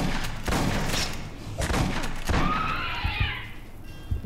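Gunfire in the video game Aliens: Colonial Marines, bursts of rapid shots and thuds in quick clusters, loud and close, followed by a wavering electronic whine from the game.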